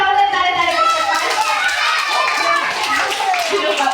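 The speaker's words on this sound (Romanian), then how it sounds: "Haideți să-l aplaudăm tare, tare" Audience of children and adults clapping for a child magician at a puppet show, dense and lively, with children's voices and talk mixed into the applause.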